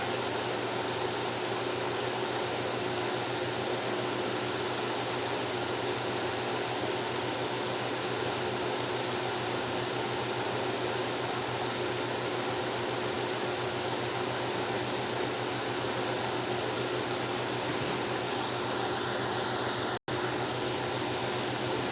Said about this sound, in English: So I'm just going to leave this fan running.